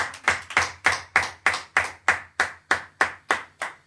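A church congregation at a worship service claps together in a steady, even rhythm, about three sharp claps per second, loud and close, with no talking over it.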